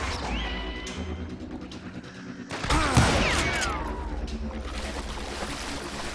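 Gunfire in the Western shooter Call of Juarez Gunslinger: a sharp, loud burst of shots near the middle rings out over a busy game soundscape, followed by tails of ricochet-like sweeps and steady background noise.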